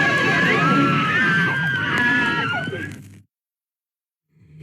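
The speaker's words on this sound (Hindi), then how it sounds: "ये जो चिल्लाने की आवाज आपने सुनी, ये आवाज थी जब साइकिल से राजकुमार जा रहे हैं एक तरफ से, दूसरी तरफ से नूतन की सहेलियों की साइकिल आ रही है" Women scream in a bicycle collision scene from the 1959 Hindi film Anari, a loud, sustained, overlapping shrill outburst lasting about three seconds before cutting to near silence.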